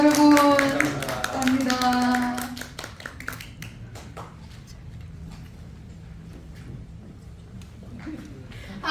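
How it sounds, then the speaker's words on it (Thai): Applause from an audience at a Thai press event for a K-pop band, scattered claps over music and voices at first, thinning to sparse, quieter clapping after a few seconds. "วันนี้ขอเสียงปรบมือ บอกลาน้องๆด้วยนะคะ"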